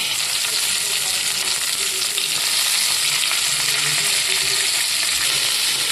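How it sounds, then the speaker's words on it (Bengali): Onion, slit green chillies and two kinds of capsicum fry lightly in a pan for chilli soybean. A steady, close sizzle continues evenly throughout with no talking. "আমি হালকা করে ভেজে নিচ্ছি।"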